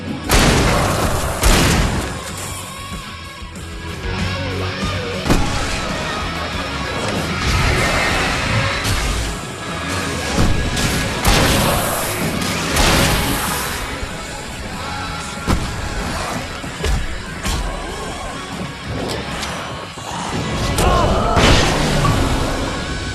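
Battle scene in Alan Wake with loud, dense booms, crashes and bursts of gunfire, several sharp blasts standing out over continuous music and clatter throughout.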